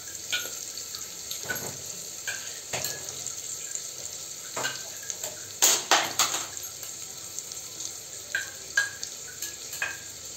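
Sliced onions sautéing in a pan for chicken chalna, with a steady sizzle and irregular scrapes and knocks from a spoon stirring against the metal, close and fairly loud, with no talking.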